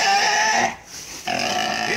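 Wild boar in Vietnam grunting loudly and continuously at close range, with a brief dip in the middle, while people talk nearby.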